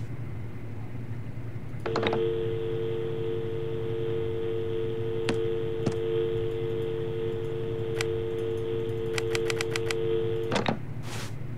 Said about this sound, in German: Das hat auf jeden Fall ein Freizeichen, das heißt, es funktioniert.